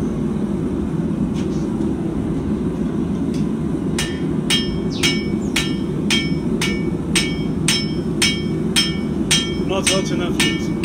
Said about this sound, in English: So I'm going to start hammering the blade down.